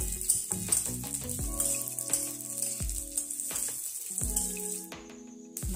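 Chopped dry fruits fry in hot ghee in a kadai, giving a steady, fine sizzle that runs under background music and cuts off briefly near the end.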